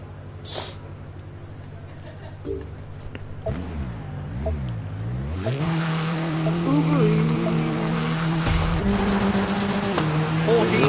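A car in the WRC rally video game does a burnout, the engine revving up and down before settling into a loud, sustained high-revving roar with tire squeal, as a voice talks over it.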